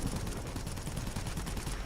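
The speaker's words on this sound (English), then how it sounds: "look at that gunfire going off" Dense, continuous rapid aircraft gunfire in the video game World of Warplanes, from a Blenheim F, rattles at moderate distance, a rough, crackling stream of shots with no pauses.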